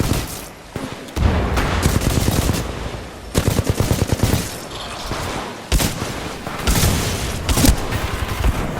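Loud bursts of automatic gunfire and heavy shots in the video game Titanfall 2, rapid rattling volleys separated by short gaps and booming impacts, close and dominant, no talk.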